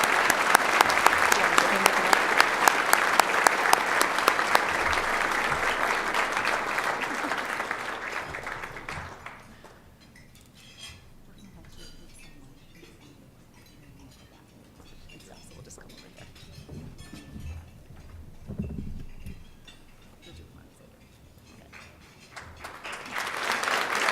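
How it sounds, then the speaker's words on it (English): Audience at an award ceremony applauding a winner, a loud dense burst of clapping for about nine seconds that stops abruptly, followed by quiet room noise, a few faint clinks and someone speaking, before clapping returns briefly at the end. "we're going to have a round of applause one last time for our award winner"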